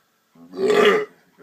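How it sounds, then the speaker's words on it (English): A single loud, close burp lasting about half a second during a beer review of Shiner Kosmos and Prickly Pear, heard alone with no talk over it. "don't burp on the beer review"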